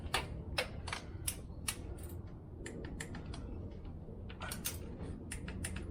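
Torque wrench clicking as it tightens a 3D-printed carburetor spacer to 5 foot-pounds, a run of quiet, sharp mechanical clicks in an irregular rhythm against a low background hum.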